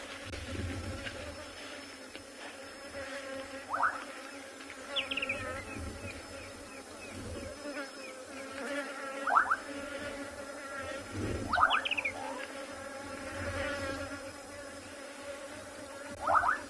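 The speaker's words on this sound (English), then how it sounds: "I'm just going to let you guys get in touch with the hive of activity from these bees." Honeybees around a busy hive give a steady, close buzzing drone throughout, while occasional bird chirps rise faintly in the background during a sunset safari in the bush.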